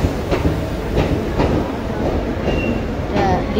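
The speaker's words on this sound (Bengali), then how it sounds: "ট্রেন ঢুকলো নাগাল্যান্ড এক্সপ্রেস।" Nagaland Express pulling into Simulguri station, loud rhythmic clacking of wheels over rail joints with a steady rumble and faint squeals, close by.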